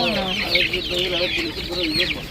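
Spotted hens clucking close by in a steady run of short calls, with a chick nearby and no talking.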